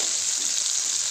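Onions sautéing in a pan for mutton chukka, a close, even, steady sizzle of frying with no pauses and no talking.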